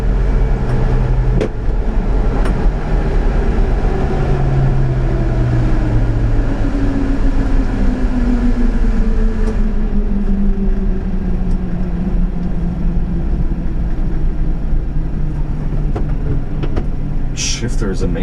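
A 1991 Subaru Sambar 4WD Super Deluxe kei truck cruises on a highway at about 100 km/h, a steady loud engine and road drone filling the cab with slowly shifting tones while someone talks over it.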